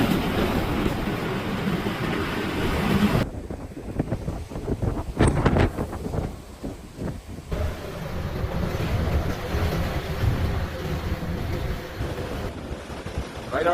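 Strong storm wind during Storm Éowyn batters the microphone in loud, continuous roaring gusts, with a dense rumble that surges and eases across the whole stretch.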